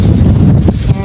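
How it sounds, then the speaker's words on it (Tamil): Strong wind gusts across a rooftop garden, a loud low rumbling buffet of wind against the microphone with no break through the short stretch. "எல்லாம் அப்படியே காற்று பயங்கரமாக அடிக்குது."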